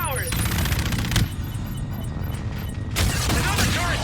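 Rapid automatic gunfire and explosive booms fill a battle against gunships in the video game Call of Duty: Infinite Warfare, with bursts of firing separated by louder blasts. Voices talk over the fighting.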